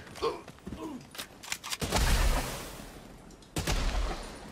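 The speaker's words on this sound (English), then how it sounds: "And then we can just shoot these guys real quick." Bursts of gunfire in the video game The Division 2, several rapid shots and volleys mixed with clattering game effects and a faint voice underneath.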